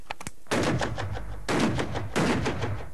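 Rifle shots fired at a hunting cinema with a paper screen, a few faint clicks followed by three loud, sharp reports about a second apart, each ringing out briefly in the room.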